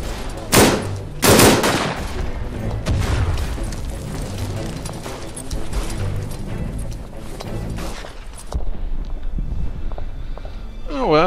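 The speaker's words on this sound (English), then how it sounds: "I'm just shooting blindly" Bursts of Browning Automatic Rifle (BAR) fire in the World War I shooter Verdun: two loud close volleys early on, then sustained crackling gunfire and distant booms through a busy battlefield din, with a sharper burst near the end.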